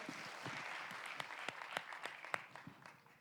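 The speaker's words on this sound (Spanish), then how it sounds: "Aplauda al Señor y póngase de pie" A church congregation applauds with dense, steady clapping that fills the room, with a few sharper individual claps standing out near the front.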